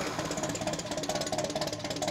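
A rare old engine runs with a steady, rapid knocking pulse, fairly faint and heard alone without talk.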